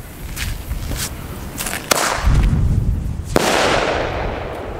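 Firework mortar shells, four tubes with 2.5 grams of net explosive mass each, burst outdoors in a few sharp, loud bangs with crackling tails and a rumbling gap between them. No one speaks.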